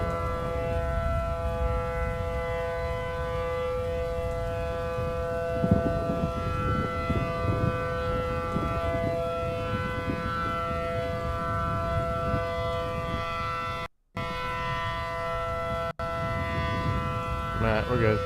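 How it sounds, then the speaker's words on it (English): A civil defense siren in a Roblox game wails loudly and continuously, with a sharp dropout partway through and a rising sweep at the close. "that siren is extremely loud"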